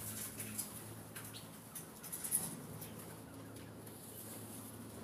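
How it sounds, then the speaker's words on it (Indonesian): Junglefowl in an aviary give soft, scattered clucks and brief calls, faint against a quiet background hum with some light rustling. "ini kita lihat ayam hutannya juga ya"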